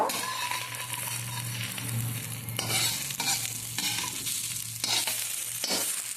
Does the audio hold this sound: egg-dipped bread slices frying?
yes